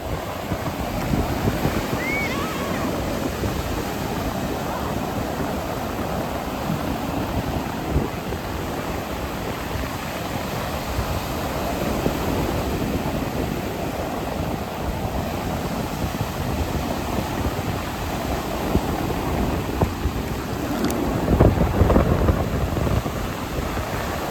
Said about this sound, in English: It's very windy, but very beautiful. Look at the waves.